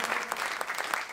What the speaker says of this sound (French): Je vous remercie, vous pouvez vous applaudir.